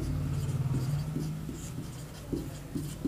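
Pen on paper writing out a name, a close, continuous scratchy stroke sound with small taps and lifts, steady throughout and with no talk.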